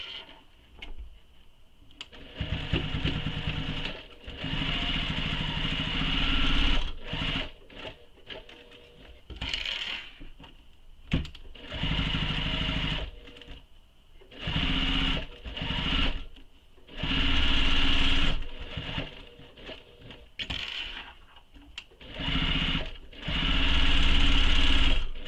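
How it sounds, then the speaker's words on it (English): A sewing machine stitches down the short sides and across the bottom of a small messenger bag, running in repeated bursts of rapid whirring and chattering, separated by short pauses when it stops. No one speaks. "Now I'm going to sew the 3 edges, so the 2 short sides and the bottom."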